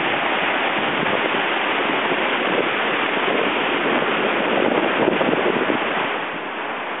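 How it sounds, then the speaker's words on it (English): Wind of about 10 to 12 mph on the Multnomah Falls hiking trail, a loud, steady broadband rush buffeting the microphone from start to finish, easing slightly near the end, with no voices. "Nice little wind coming off of here."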